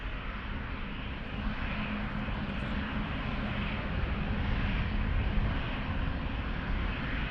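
A Ryanair Boeing 737 lined up on the runway at Amsterdam Schiphol gives a steady, loud roar of jet engines that holds evenly without pause.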